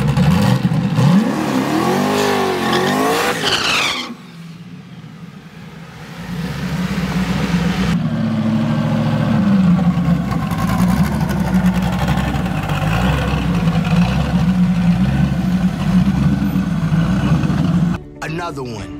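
A drag race car nicknamed Betty White, fitted with a last-minute clutch change, revs hard with sweeping pitch rises, then settles into a loud sustained engine roar, with talking over part of it.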